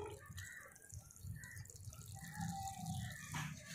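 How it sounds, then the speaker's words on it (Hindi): Water is poured onto the soil of a freshly repotted hibiscus plant in a pot, a close, steady splashing trickle with small drips and gurgles. "अब इसे पानी दे देंगे।"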